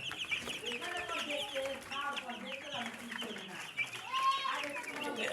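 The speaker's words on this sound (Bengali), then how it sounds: "ব্রয়লার মুরগির বাচ্চা দেখুন, কি সুন্দর বাচ্চা।" Nine-day-old broiler chicks cheep and peep in a busy, overlapping chorus at close range, soft and continuous, with light clucking mixed in.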